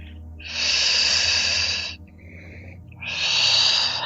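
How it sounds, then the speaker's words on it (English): Slow, deep breaths during a yoga flow, two long airy breaths close to the microphone with a brief pause between them, no talking. "Last couple breaths."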